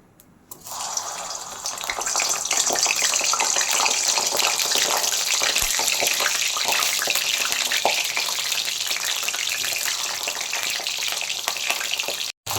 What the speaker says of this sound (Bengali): এবার আমি এই পটলগুলোকে ভাজবো।